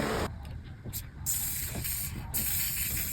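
Airbrush spray blush can releasing bursts of hissing gas in repeated short sprays, with a fan running in the background and pauses between bursts.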